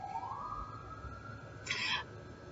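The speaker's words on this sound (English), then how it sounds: "Every single time I do a video, there's a siren going off." A siren wails outside, its tone rising slowly and then holding. It stays fairly faint and distant, with a brief louder noise near the end.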